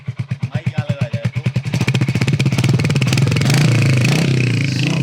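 A Royal Enfield Hunter 350 motorcycle engine idles with a steady thump, then the throttle opens and it revs up into a louder, continuous roar.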